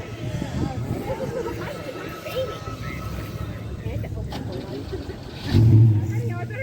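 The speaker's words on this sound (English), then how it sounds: "Very nice little car." An Alfa Romeo Pininfarina roadster idles with a low engine rumble at an outdoor cruise night, then a short louder rev near the end. Crowd chatter and nearby talking continue throughout.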